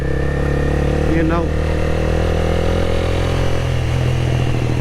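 A 600cc motorcycle engine droning steadily while riding, loud with constant wind rumble and a brief rising whine, as someone talks over it.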